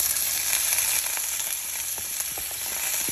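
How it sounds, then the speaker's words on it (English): Chopped fajita vegetables hit hot olive oil in a pan, setting off a loud, steady sizzle with crackling pops that holds for the whole few seconds, with no talk over it. "I'm going to add a little olive oil in. I'm going to go ahead and add my veggies in."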